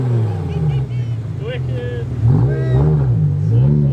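A BMW E60 M5 Touring's naturally aspirated V10 revs close by at a tuner car gathering, its engine note rising and falling in pitch beneath continuous talking.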